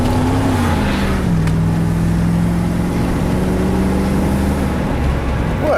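A 1992 Pontiac Firebird sweeps through a 90-degree corner at speed, its engine drone heard from inside the car. The pitch sags and then holds a steady, loud hum through the turn.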